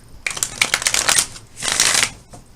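Two bursts of tarot card shuffling, close and crisp, each a quick riffle of fluttering, slapping cards with a short pause between.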